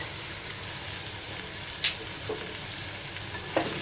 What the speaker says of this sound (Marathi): आणि छान असं परतूया